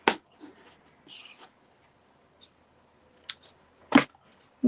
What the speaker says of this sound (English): Let's just get my ribbon scissors.